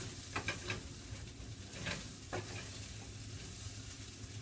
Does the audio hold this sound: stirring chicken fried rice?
yes